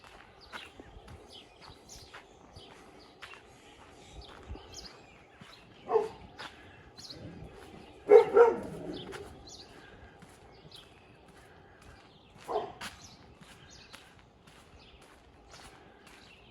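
A dog barks three separate times in a residential area of Lakeview, Regina, on a hot June day, the barks short and moderately loud over quiet street ambience and soft footsteps.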